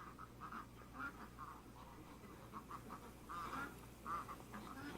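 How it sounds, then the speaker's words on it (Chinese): A farm sleep-sound from a Soundcore Wakey Bluetooth speaker plays repeated duck quacks in short irregular bursts over a low steady background, with no talking. "农场的声音，"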